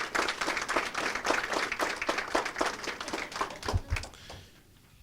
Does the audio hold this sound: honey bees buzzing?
no